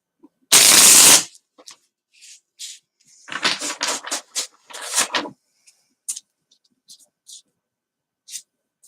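A brief loud riffle of tarot cards is followed by scattered soft taps and slides of cards being handled, with quiet pauses in between.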